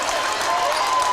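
A basketball arena crowd cheers and applauds loudly during a college game, a dense continuous roar of noise close and full throughout.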